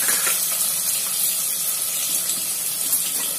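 Sliced onions hitting hot oil for a Konkani fish curry with methi khichdi give a steady, dense hiss that holds evenly throughout, fairly loud and close, with no talking over it.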